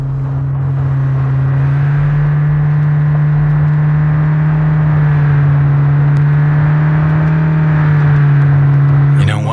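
Car driving through a Cyberpunk 2077 city, a loud steady engine drone with a constant low hum that holds evenly throughout, the car close and continuous.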